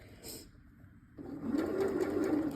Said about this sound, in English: I'll just go ahead and start sewing that